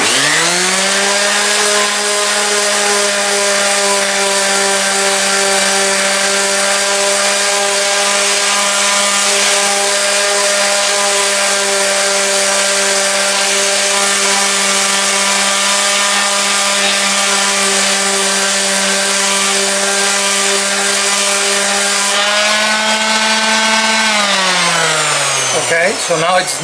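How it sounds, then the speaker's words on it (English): A power sander works on the visible wood edge of a vegetable pantry bin, a loud steady motor whine with a strong tonal hum running for over twenty seconds, then winding down sharply at the end. "So we're just going to do a little sanding"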